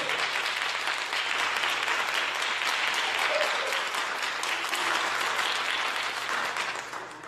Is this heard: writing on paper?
no